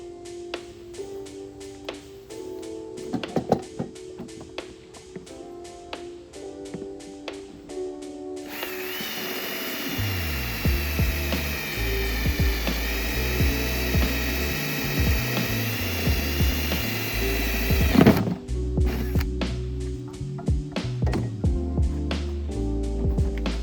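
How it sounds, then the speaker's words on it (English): A power drill boring a 1-inch hole during electrical work on a SnoPro Hybrid remodel, whirring loudly and steadily for about ten seconds between quieter handling clicks and knocks. "so what I did is I drilled a 1-inch hole here."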